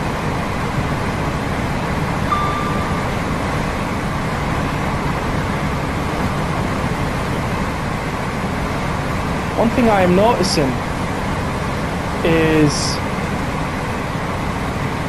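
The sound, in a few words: wind against Class 805 train, Train Sim World 6 video game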